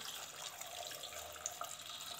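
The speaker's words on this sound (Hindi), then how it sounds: "और पानी ऐड कर देंगे।" Water poured from a tap into a pressure cooker while cooking at home, a steady continuous splashing stream lasting throughout at moderate level, with no talk.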